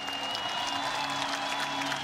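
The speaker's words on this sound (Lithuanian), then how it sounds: "Aplodismentais išleidimas Jimmy Livinijus." A crowd at a UTMA MMA event applauds steadily for a couple of seconds as a fighter is introduced, a dense patter of clapping with a faint hum beneath.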